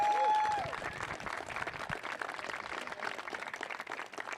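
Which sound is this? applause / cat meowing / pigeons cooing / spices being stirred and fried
applause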